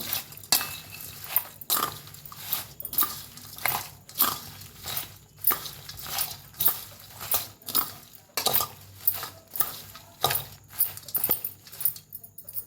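A spoon mixes turmeric into a lemon and green chilli pickle in a metal vessel, making steady, rhythmic scraping and clinking strokes roughly once a second, close and clear, with no talk.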